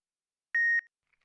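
A single answering machine beep on a doctor's voicemail, one clean steady electronic tone lasting about a quarter second, loud and alone in silence.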